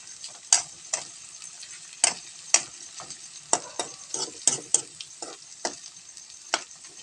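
Spaghetti sauce cooks in a pan with a soft sizzle underneath, while a spoon stirs and taps against the pan in a series of sharp, uneven clicks at close range. No voices are heard.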